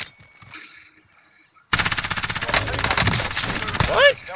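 Automatic gunfire in the Call of Duty Warzone video game bursts in after a quiet moment, a loud, rapid, continuous rattle of shots lasting over two seconds, with a voice talking over it.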